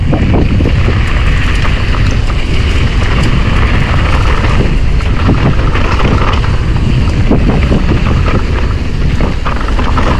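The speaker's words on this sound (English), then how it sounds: "A little windy today." Heavy wind buffets the microphone on a Crowsnest Pass trail, a loud steady roar of rumbling gusts lasting throughout with no talk.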